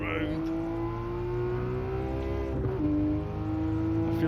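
A Gran Turismo 7 race car drifts around a corner, its engine holding a loud, sustained whine that sags and dips mid-slide before steadying again.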